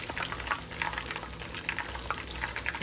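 Fish frying in hot oil in a pan for Lahori fish fry, a steady close crackling sizzle with small popping bursts throughout, no voices.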